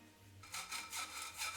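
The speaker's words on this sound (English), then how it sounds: "I start by sifting together the dry ingredients" Flour, cocoa powder, baking powder and salt are shaken through a sifter, producing soft, rhythmic rasping pulses after a brief quiet start, close and fairly faint.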